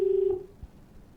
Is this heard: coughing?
no